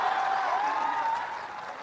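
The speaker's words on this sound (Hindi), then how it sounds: "बताइए ताली जरा" An audience claps for just under two seconds, a dense patter of hands that starts full and fades slightly toward the end, heard at moderate distance in a public gathering.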